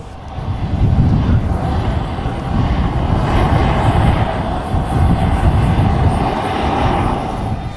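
An electric radio-controlled Rafale model jet flies past with a loud, sustained roar that swells and ebbs slightly as it moves, with no talk.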